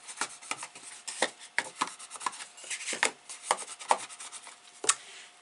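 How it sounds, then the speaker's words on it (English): Paper flaps of a handmade exploding gift box being burnished, a run of dry rubbing strokes and short scraping swipes at close range, irregular in rhythm and fairly quiet, with no talking. "I can go round and burnish those."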